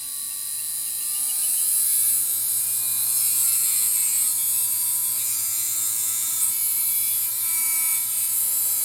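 Electric motor of a Tamiya TT02 RC car revving, a high steady whine with tonal harmonics that rises in pitch and holds, loud and close with no talk.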